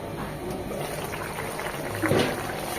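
Boal fish curry with tomato simmering in a covered pot, a steady low bubbling and hiss of cooking liquid that swells briefly near the end.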